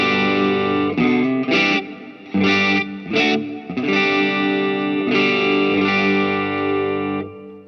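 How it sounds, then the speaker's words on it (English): An electric guitar played through a shimmer reverb effect pedal plays sustained, heavily processed chords with a washy, reverberant tail, pausing briefly between strums before ringing out. "as you can hear, the reverb is there."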